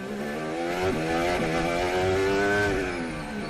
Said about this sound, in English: Sound you can hear is Nicholas Latifi coming through, coming up to the top of the hill and around the castle section and down towards turn 15.